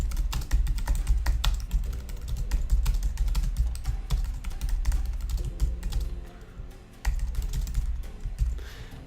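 Typing on a computer keyboard: rapid, continuous clicking and tapping of keys, close and clear, with a short pause partway through and no voices.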